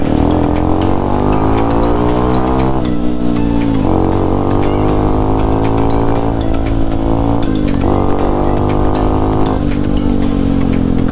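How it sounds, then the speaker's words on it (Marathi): A Hero Impulse motorcycle rides along, its engine loud and close with a throbbing exhaust note rising and falling through several gear changes and revs, with no one talking. "काय साऊंड आहे गाडीचा"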